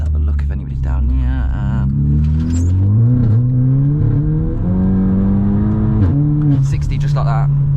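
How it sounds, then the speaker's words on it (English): Volkswagen Scirocco engine heard from inside while driving, loud and droning, the pitch climbing through the gears with shifts between, while a voice talks over it. "The car has gotten louder somehow, right?"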